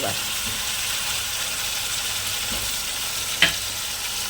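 A ground cashew and poppy seed paste fries in hot oil, sizzling steadily and close, with light stirring and one sharp utensil clink near the end; no one speaks.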